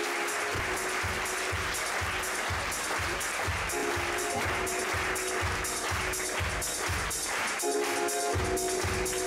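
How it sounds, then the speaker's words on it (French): An audience at an evening show claps loudly and steadily, the applause blending with a driving rhythmic beat of music pulsing underneath throughout. "que je vous demande d'applaudir très très fort"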